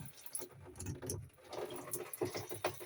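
Shower water runs and patters steadily with a splashing, uneven texture, close by, with no voices.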